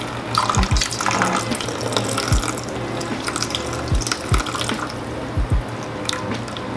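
Homemade green juice strains steadily into a bowl, a continuous close trickle of liquid with a low background hum and a few soft knocks and clicks scattered throughout.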